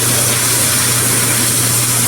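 An electric power spray washer cleaning mud off ginger, a loud, steady motor drone with a low hum and a broad hissing spray, constant throughout with no talk.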